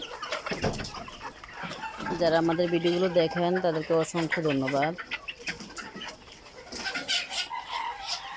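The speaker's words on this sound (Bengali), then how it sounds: "এই যে আমাদের মুরগিগুলো খাবার পানি খাইতেছে" Two- to three-month-old Egyptian Fayoumi chickens cluck and call while eating and drinking, with a drawn-out crow-like call in the middle, all under someone talking nearby.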